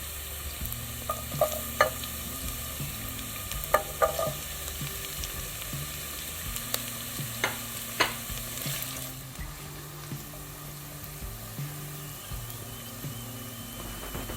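Torn green chili, ginger and marinated chicken fry in a pan, a steady sizzle broken by sharp clinks and scrapes of stirring, fairly close and with no talking.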